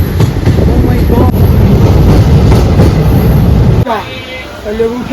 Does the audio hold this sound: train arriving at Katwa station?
yes